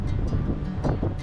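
Strong wind buffets the microphone at the Kisköre lookout on Lake Tisza, a steady loud roar with gusts rising and falling over choppy waves, no voices.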